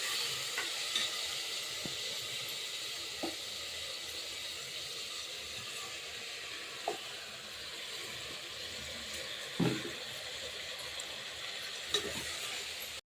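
Rice stirred into a hot pressure-cooker pot for matki bhat (moth-bean rice), with a steady close sizzle and hiss broken by a few sharp scrapes and clicks of the spoon; no one speaks.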